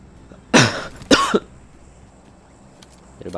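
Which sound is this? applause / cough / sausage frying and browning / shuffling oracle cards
cough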